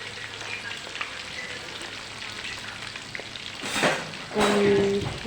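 Meat fries for Kabuli pulao in a steady, close sizzle and crackle, with a louder surge of frying and stirring near the end.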